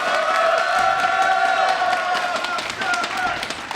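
Crowd cheering and clapping at a StarCraft 2 WCS America 2014 quarter-final, a steady loud roar of applause and shouts throughout, with commentators talking over it.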